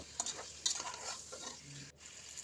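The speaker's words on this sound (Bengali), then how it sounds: "এরপর এখানে আমি সবজিগুলো অ্যাড করে দিয়ে আবার নেড়ে ছেড়ে নিব" Beef with freshly added vegetables being stirred in a pan for peshwari beef, a steady sizzle under faint scraping and clinking of a spoon, close and moderately quiet with no talk.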